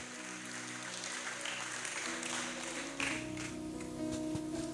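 A church congregation applauding during a sermon: a dense, continuous patter of many hands clapping, moderately distant, swelling slightly toward the end over a faint sustained musical hum in the background.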